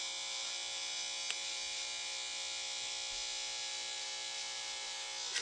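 Electric hair clippers cutting a taper fade, a steady close buzzing drone with a couple of faint clicks, running continuously with no talking.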